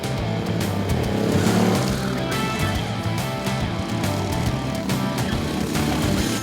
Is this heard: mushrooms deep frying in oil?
no